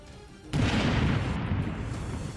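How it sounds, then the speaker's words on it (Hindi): A landmine detonation: a sudden loud blast hits after a brief quiet stretch, then a sustained low rumbling roar that lingers without fading much. "इस दौरान वहां तेज धमाका हुआ"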